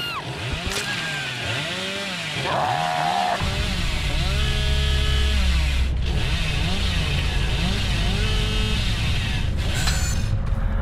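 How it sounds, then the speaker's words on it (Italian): A killer's chainsaw in the horror game Dead by Daylight revs up to a loud, sustained engine roar with a rising, rasping pitch, growing heavier after a few seconds and then holding steady. "Beh, però ci mette un bel po' comunque la motosega solo a riscaldarsi"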